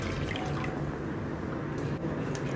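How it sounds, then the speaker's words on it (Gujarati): Water pours steadily into a mixing bowl while making a batter for nylon khaman, a soft, continuous trickle heard close up and fairly quiet, with no one speaking. "તો એમાં આ પાણી એડ કરી દઈશું આપણે"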